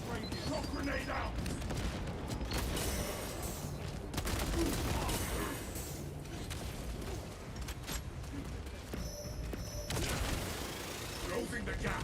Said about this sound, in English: Shock grenade out.